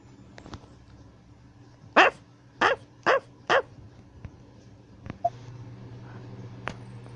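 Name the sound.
dogs barking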